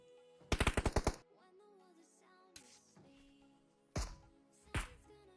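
Gunfire in the mobile battle-royale game PUBG Mobile: a rapid burst of about six sharp shots, then after a pause three more single cracks spaced apart, with faint game sounds between.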